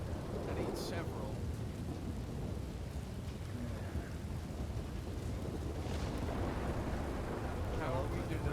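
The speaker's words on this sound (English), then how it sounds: "campfire on a rainy night" Steady rain falls through a night scene in the RedM roleplay game, a dense, even hiss with soft low rumbles, continuous at moderate level throughout.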